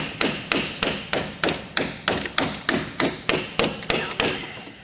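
Sharp metallic hammer blows strike a corroded part on a Nissan Patrol in a steady rhythm, about a dozen hits in quick succession, close and loud.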